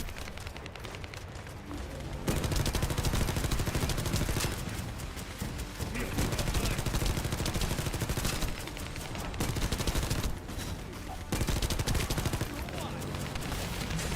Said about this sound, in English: We're doing fire damage with our rifle.